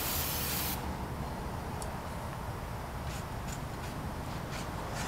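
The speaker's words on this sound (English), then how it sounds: "I'll just take a little brake clean here and that'll clean it off." A can of brake cleaner sprays a strong, continuous hiss onto brake shoes, loud and close, with a few faint ticks layered on top.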